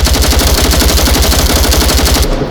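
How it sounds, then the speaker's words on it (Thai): An M4 rifle empties its magazine in the VR shooter Onward in one loud, rapid, unbroken stream of automatic gunfire at close range that stops abruptly near the end. "โอเค ผมจะเอาปืน M4 นะครับ"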